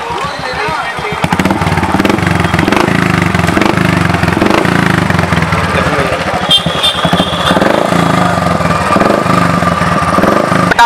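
A motorcycle fitted with a new sports exhaust runs loud and close in a rough, steady engine rumble after starting, while people talk over it.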